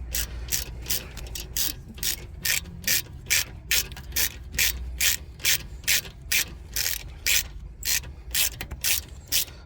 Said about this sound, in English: I use the ratchet and put a little bit of force on to help them slide out